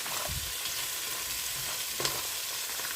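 Steady crackling sizzle of food being sautéed in a hot pan in a home kitchen, with a few louder stirring scrapes and clatters near the start and around the two-second mark.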